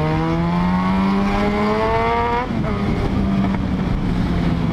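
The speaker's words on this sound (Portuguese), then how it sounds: "eu acho que tem que fazer silêncio quando acelera a moto" A Yamaha XJ motorcycle engine revs close to the mic, the pitch climbing steadily for a couple of seconds before dropping off and settling into a loud, rough idle.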